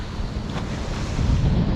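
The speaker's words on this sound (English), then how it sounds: "it is very, very windy" Strong wind blowing at an ocean beach, a loud, continuous roar buffeting the microphone with crashing surf underneath, swelling louder toward the end, no voices.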